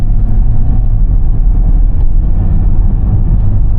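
A 2024 Mercedes-Benz V300d van with its 238 hp diesel and 9G-Tronic gearbox accelerates hard to overtake, giving a loud, steady engine and road drone from inside the cabin with no talking.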